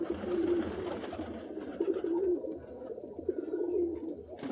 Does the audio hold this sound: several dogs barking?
no